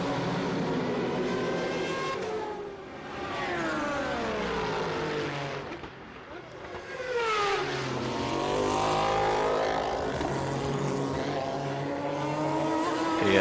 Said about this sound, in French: Pierluigi Martini qui se ferait un passage parmi les deux 911 du Rook Racing